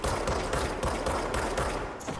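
Fast, loud gunfire from the video game Control, a steady rapid series of sharp shots close up with no talking.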